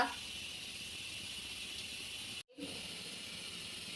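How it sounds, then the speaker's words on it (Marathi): Onion roasts in a hot pan for Maharashtrian bazar amti, a steady, even hiss of sizzling that runs alone throughout, close and fairly quiet, broken only by a brief dropout. "तोपर्यंत आपल्याला इकडे भाजून घ्यायचा आहे कांदा"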